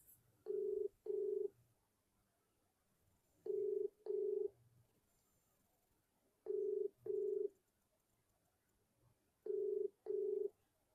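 A phone ringback tone repeats in evenly spaced double rings, four pairs separated by pauses, with no voice answering.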